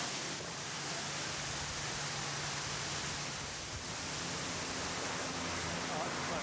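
Large waterfall roaring close to a boat's bow as the vessel noses in near the falling water, a dense steady broadband rush filling the whole clip without pause, loud and constant with no voices.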